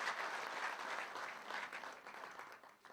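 A crowd at a Moroccan Association of South Africa gathering gives a round of applause, quiet and somewhat distant, with dense clapping that tapers slightly toward the end.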